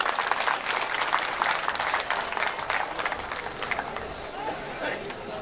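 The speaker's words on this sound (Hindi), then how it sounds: "तालियों के साथ स्वागत करें" Audience applause welcoming a university vice-chancellor at a campus event, loud dense clapping mixed with crowd murmur that thins and fades toward the end.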